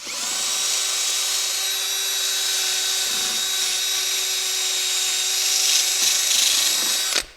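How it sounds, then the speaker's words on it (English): A flap disc on an angle grinder cleans corrosion from a car wheel hub during a Brembo big brake kit install, making a steady, loud, high-pitched whir that holds for about seven seconds and then spins down. "I ran the flap disc around the hub."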